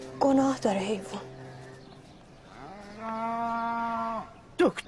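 A pregnant cow in a border village lets out a long, loud, close moo after a stretch of muffled human voices, with another short vocal burst at the very end.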